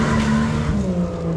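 A remote control Jeep's motor whines loudly up close as it drives over a driveway, with a short, rough, revving burst and some tire scuffing, alone without speech.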